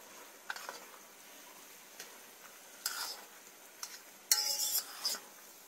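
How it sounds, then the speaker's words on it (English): Flour being stirred into mushrooms and fat in a pot to make a roux, with faint soft scraping, a low sizzle and a few brief clinks of utensil against pan, sparse and quiet with no talking. "So we're just going to get that stirred up really well."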